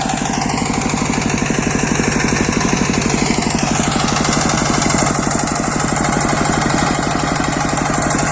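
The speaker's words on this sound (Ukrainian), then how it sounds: "Цього року цей тракторець попрацює на славу." A tractor engine idles loudly and steadily nearby, with a rapid, even chugging throb throughout.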